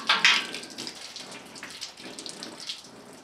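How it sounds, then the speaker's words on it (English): Engine coolant from a 2001 Ram 3500 Cummins drains and splashes in a faint, uneven trickle, close by, with a brief brighter splash near the start. "Oh, there's more coolant."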